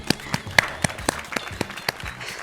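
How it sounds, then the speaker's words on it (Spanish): A small audience at a university talk on gender equality gives brief applause to welcome a speaker, with a few distinct sharp claps standing out at an uneven rhythm over a softer patter. "por favor, recibámoslo con un gran aplauso."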